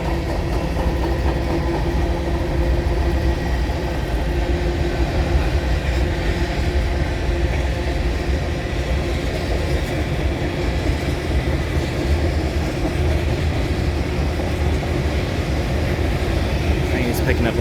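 A long freight train rolls past at night, steady loud rumble and rail noise filling the scene throughout with faint clickety-clack of wagons, the train gathering speed.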